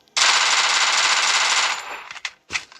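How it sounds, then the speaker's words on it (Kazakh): Gunfire in a Free Fire squad battle video game: a long, loud burst of rapid automatic fire lasting over a second and a half, followed by a couple of short, sharp shots. "Сөйтіп атысып жүресің, ана типа битва отряд сияқты екен ғой."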